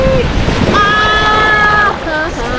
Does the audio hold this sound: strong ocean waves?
yes